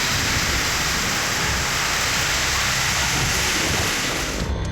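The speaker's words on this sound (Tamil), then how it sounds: "திருவண்ணாமலை மாவட்டம் ஆரணி சுற்றுவட்டார பகுதிகளில் சூறைக்காற்றுடன் கனமழை வெளுத்து வாங்கியது." Heavy rain with strong gusty wind around Arani in Tiruvannamalai district, Tamil Nadu, a dense, loud and constant roaring wash of noise with no voices.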